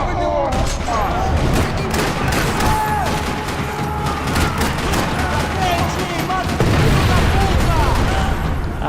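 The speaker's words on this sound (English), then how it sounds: "Another parking lot rattling with gunfire." Dense, sustained gunfire rattles through a parking lot during a firefight in the video game Max Payne 3, bursts and booms overlapping continuously and loudly, with voices now and then under the shooting.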